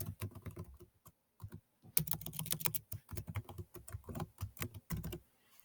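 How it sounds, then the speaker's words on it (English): Someone types an email address and password on a computer keyboard, a close run of quick, uneven key clicks with short pauses and no talking. "you're going to type in either your email address or your username that we set up yesterday. And then enter your password."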